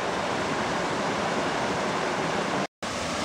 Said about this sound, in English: We're at yet another waterfall.